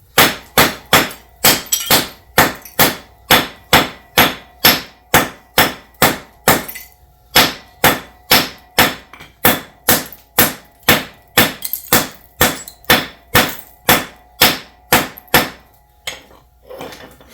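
Sharp hammer blows crack against rock while shaping real stones for a fireplace build, about thirty-five steady, evenly spaced strikes ringing out close and loud over roughly seventeen seconds, with no talk.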